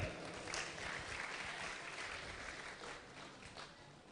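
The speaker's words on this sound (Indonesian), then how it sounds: "Tepuk tangan untuk Badiklat." An audience at a Partai Demokrat event claps in sustained, fairly distant applause that holds steady throughout, with no voices rising above it.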